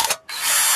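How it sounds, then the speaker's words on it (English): A power drill bores through a metal canning lid to make a herb shaker, a brief whine that cuts out for a moment then resumes as a steady high-pitched buzz, close and loud. "So we're going to put that on there and just drill. Drill away."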